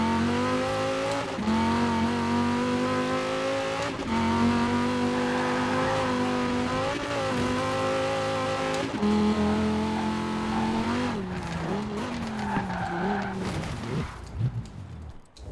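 The Cyberpunk 2077 car in Forza Horizon 4, a diesel with 48 pounds of boost, drones with a loud, sustained engine note that rises and dips with throttle, ending in tire squeal and skidding as it fades.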